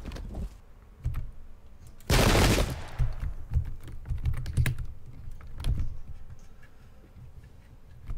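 Musket volleys crackle in the Pike and Shot video game, set during the 1798 Irish Rebellion at Vinegar Hill: a loud burst of massed gunfire, then scattered sharp reports continuing over a low battle rumble.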